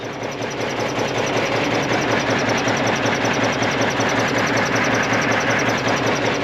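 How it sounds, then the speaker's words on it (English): A Cummins diesel truck engine idles up close after a cold start, a loud steady chugging clatter with rhythmic knocking that holds constant throughout. "let him chug a little bit to warm up, and then we'll fast idle him"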